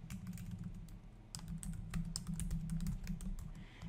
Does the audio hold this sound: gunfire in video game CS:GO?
no